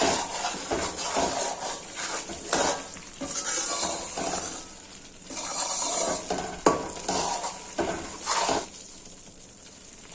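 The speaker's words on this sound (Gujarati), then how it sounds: "આપણે મીડિયમ ગેસની ફ્લેમ ઉપર લોટને પ્રોપર રીતના ઘીમાં શેકતું રહેવાનું છે" Flour being stirred and roasted in ghee in a pan over a medium gas flame for gud adadiya pak, with a steady close sizzle broken by repeated scraping strokes of a spoon against the pan.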